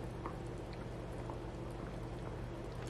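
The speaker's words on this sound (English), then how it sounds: "I just hear the inside boiling" Liquid bubbling inside a Haidilao self-heating instant hot pot, a steady faint simmer with soft pops and crackles running continuously at close range, no talking.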